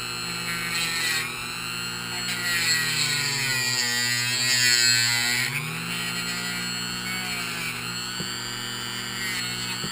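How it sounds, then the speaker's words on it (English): A small Dremel rotary tool whines steadily at high pitch, its tone dipping and rising as the cutoff wheel bites into material, continuous throughout. "I'm using a cutoff wheel on my Dremel."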